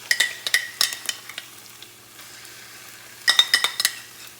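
Spices and tomato paste fry in a pan, with a quiet sizzle under bursts of spoon clinks and scraping against the pot, in two clusters separated by a calmer stretch, no talking.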